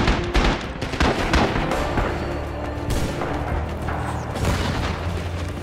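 Dense battlefield din from the World War II shooter Rising Storm: a heavy grenade blast among rolling rifle and machine-gun fire, loud and continuous with repeated booms and crackling shots throughout.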